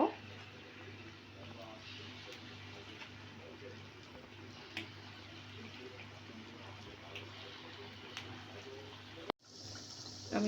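Small ripe mango fritters dropped into hot regular cooking oil give a soft, continuous crackling sizzle, with a brief sharp click near the end.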